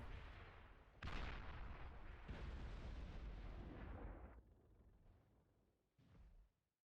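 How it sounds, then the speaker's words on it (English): Long-range plasma cannons fire in the real-time strategy game Beyond All Reason, heavy booming blasts with rumbling tails that overlap and keep the sound dense for several seconds, then thin out, with one last shorter boom near the end. "long range plasma cannon"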